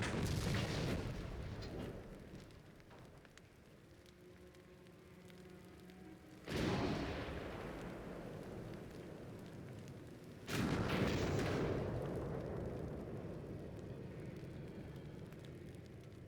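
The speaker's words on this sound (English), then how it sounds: "these weaker 8-inch guns don't appear to do too much damage to me" Booming 8-inch naval gunfire in the warship battle game Ultimate Admiral: Dreadnoughts, with three heavy blasts spaced several seconds apart, each followed by a long rumbling decay over a low hum.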